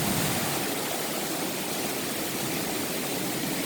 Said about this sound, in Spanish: Mostrando un poco el panorama de cómo está la lluvia en esta zona del estado de Maryland.